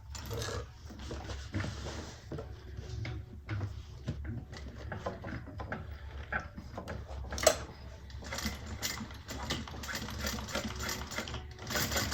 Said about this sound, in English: We're going to top stitch across.